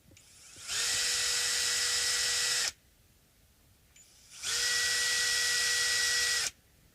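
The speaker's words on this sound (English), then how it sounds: "I like to start with a handheld screwdriver" A screwdriver backs screws out of a left-handed Stratocaster guitar in two bursts of bright, high motor whine, each lasting about two seconds with a short quiet gap between, close and clear.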